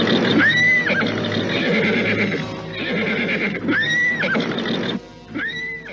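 A horse whinnies three times in loud, high, wavering neighs spaced a couple of seconds apart, with rustling and movement between the calls.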